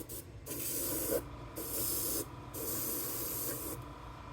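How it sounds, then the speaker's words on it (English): A spray gun spraying thick paint onto a square bill crankbait hisses in three long bursts, separated by short pauses, loud and close. "we'll run it a little bit more to hopefully get this stuff to spray"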